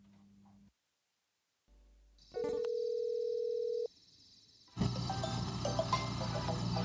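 A telephone call goes unanswered: a short tone, a pause, then a steady electronic ringback tone that cuts off before background noise swells up.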